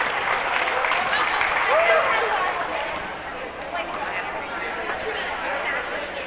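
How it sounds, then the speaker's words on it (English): Crowd applause and cheering fill the space at a sports tournament game, a steady wash of clapping with some voices mixed in, holding strong throughout. "How about a round of applause?"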